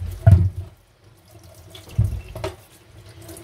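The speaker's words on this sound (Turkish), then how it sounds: "Şu patateslerini yıkayım." Tap water runs into a kitchen sink while freshly peeled potatoes are washed, with two louder gushes of splashing flow and a lower steady trickle between them.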